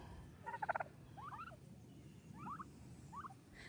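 Faint turkey gobbles from a young blue slate and bourbon cross flock, with several short warbling calls spaced across a few seconds over quiet background noise.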